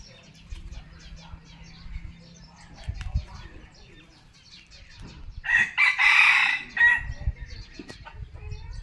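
A rooster crows loudly once, a long drawn-out call, after softer clucking and scattered background sounds from the yard.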